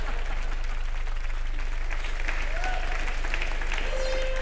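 Studio audience applause on a TV comedy entertainment show, a dense steady wash of clapping heard close and loud for several seconds over a low hum, with a voice faintly audible beneath it.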